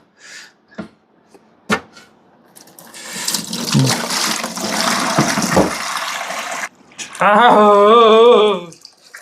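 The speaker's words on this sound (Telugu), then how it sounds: "తీసేసి స్నేకడ్ ట్యాంక్లో కూడా వాటర్ ఫిల్లింగ్ స్టార్ట్ చేసేద్దాం" Water rushes into an aquarium tank in a burst of about four seconds, preceded by a few knocks and followed by a brief voice-like harmonic sound.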